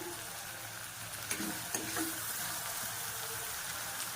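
Ginger garlic paste and green chili sauté with onion in a pan as the base for a beef gravy. A faint, even sizzle continues for a few seconds, with a couple of light stirring taps and no voices.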